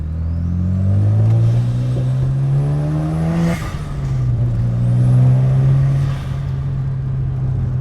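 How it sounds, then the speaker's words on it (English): Mazda RX-7 with blow-off valves accelerating in traffic, engine note climbing smoothly through two gears, each shift cut by a brief hissing whoosh before the pitch rises again, loud and close. "I just like how smooth the car sounds."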